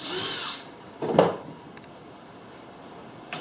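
A power drill drives screws to join wooden wall pieces of a DIY modified Benroy camper, with one short buzzing burst in the middle and a fainter whir near the end over quiet room noise.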